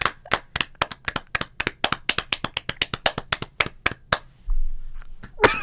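Hands clap in a quick, uneven run of about two dozen sharp, close claps, then stop, with a brief rustle and one last loud burst at the end.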